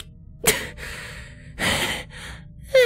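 A pony in pain gives a sharp gasp, then a longer breathy exhale follows and another quick intake of breath comes at the end, close and clear with no talk.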